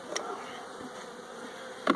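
Honeybees buzz around an open hive, a continuous close hum with individual bees passing near.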